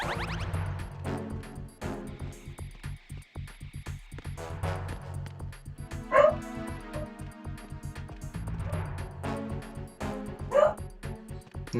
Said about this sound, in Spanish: solamente está ladrando porque le pasan personas por afuera de la casa